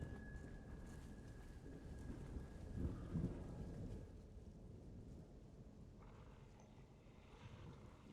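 Thunderstorm in the horror video game The Evil Within, with steady rain on surfaces and a low rumble of thunder swelling around the middle, fairly quiet overall and with no talking.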